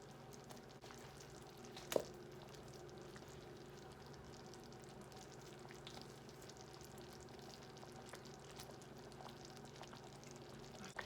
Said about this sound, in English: since it's boiling, it's bubbling like this, you can start putting your chicken